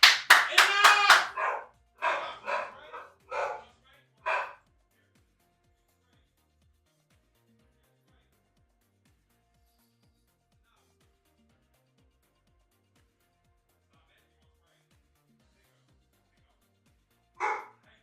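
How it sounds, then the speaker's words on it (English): House dogs let out a flurry of sharp, close barks in the opening seconds, then fall silent for a long stretch before one last short burst near the end. "Oh my god, my dogs."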